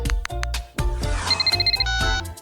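A phone rings while a call is placed, giving a bright electronic ringtone of repeated short beeps over a thumping, busy background.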